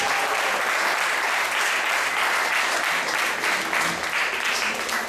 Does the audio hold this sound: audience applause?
yes